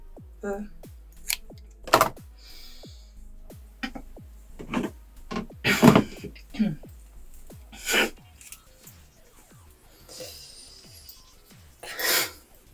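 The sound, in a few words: scissors cutting hair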